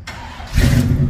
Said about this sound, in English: let's see if she get a cold start